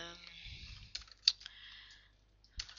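A computer keyboard clicks in short bursts of keystrokes while C++ code is typed, the taps quiet and close with gaps between them, and a voice speaks over it.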